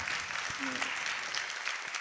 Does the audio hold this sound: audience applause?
yes